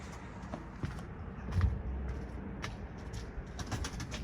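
Domestic pigeons at an office coop flutter and coo faintly in the open air, with a few soft wingbeats and scattered light sounds, no voices.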